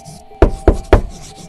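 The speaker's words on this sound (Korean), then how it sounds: "밖에서 노크 소리가 들렸다." Three sharp knocks on a wooden door, evenly spaced and fairly close, stand out against a quiet room with faint background hum.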